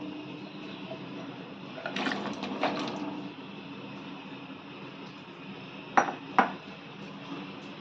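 Potatoes are dropped into a cooking pot of salted water for shahi sabji, a few quick clatters and clinks followed later by two sharper metallic knocks, close and mid-level over a quiet kitchen hum.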